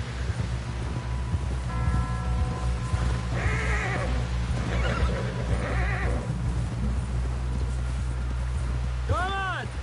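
A horse whinnies and snorts in the video game Red Dead Redemption 2, set against steady game ambience and a low rumble, with clip-clopping hooves and a brief voice near the end.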